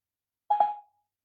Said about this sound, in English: Which phone number for Josie Mack Plus? Calling now.